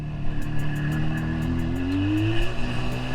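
A 1977 Suzuki GT250 motorcycle fitted with Micron exhausts runs close and loud after warming up, its two-stroke engine burbling steadily and rising in pitch with a short rev before easing back.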